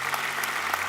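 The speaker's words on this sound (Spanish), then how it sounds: "démosles otro fuerte aplauso de bienvenida" A church audience gives a strong round of welcoming applause, dense steady clapping filling the whole moment at moderate volume, with no voices standing out.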